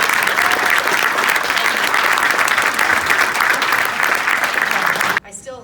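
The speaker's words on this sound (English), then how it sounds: "Please give them a huge round of applause." Loud, dense audience applause at the close of a mental health talk, sustained and even for about five seconds before cutting off abruptly into a brief different sound.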